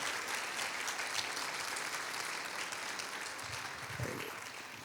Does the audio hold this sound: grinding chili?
no